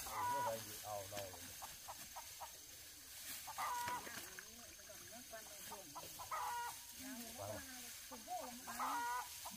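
Chickens cluck on a rural farm with field crops, quiet and somewhat distant, scattered through steady background noise while people talk nearby.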